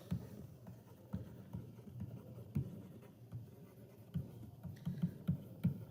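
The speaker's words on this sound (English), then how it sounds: "now I'm going to type my answer choices" Quiet computer keyboard typing, soft irregular key taps in uneven bursts, close but faint, with no voice over it.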